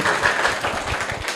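Children at a school prize-giving clap briefly for a winner, a short burst of scattered, moderately loud hand claps from a small group.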